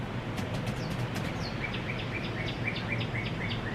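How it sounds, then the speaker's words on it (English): Small birds chirping outdoors near a back patio, a string of quick, repeated high tweets over a steady hum of outdoor background noise, moderately close. "Listen to little birdies."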